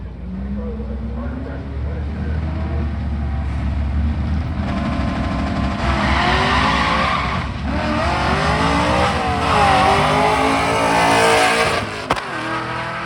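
A Studebaker stick-shift drag car with a 180-degree header engine roars loudly and steadily, its revs rising and falling and building to a fuller, harsher pitch near the end, close by and continuous for the whole stretch.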